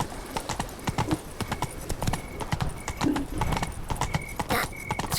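The horse Roach gallops in The Witcher 3: Blood and Wine, with rapid rhythmic hoofbeats close by, steady and continuous, and a brief snort or whinny in the middle.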